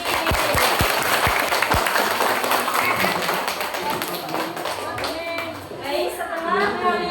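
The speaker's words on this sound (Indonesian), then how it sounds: "Tepuk tangan buat Mas Raffi" Children in an Indonesian primary classroom clap for a classmate after a maths lesson on angles, starting with a few sharp close claps, then a brief burst of group clapping that fades under children's chatter and a teacher's voice.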